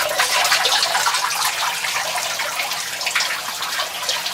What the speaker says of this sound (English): the water just flows back into the reservoir